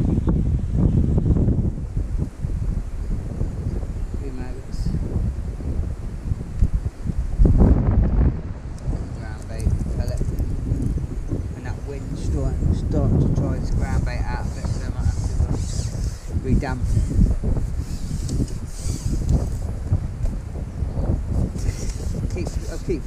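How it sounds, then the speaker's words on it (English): Wind gusting steadily across a lakeside fishing spot at Billingford Lakes, Norwich, a continuous broadband rush that buffets the microphone throughout, with someone talking intermittently over it. "as soon as there's a little break in the wind"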